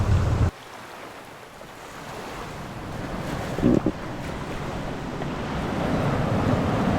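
Surf washes and rumbles against a New Zealand shore under gusty wind buffeting, with a brief sharp bump partway through and the roar building toward the end.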